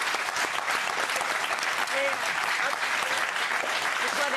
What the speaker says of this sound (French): On est fair play, on applaudit quand même.